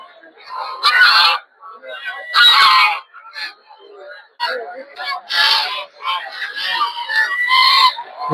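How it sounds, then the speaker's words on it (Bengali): Raja ducks quack and honk in harsh bursts amid a noisy poultry and bird market crowd, with people talking and calling nearby. "এগুলো হচ্ছে রাজা হাঁস"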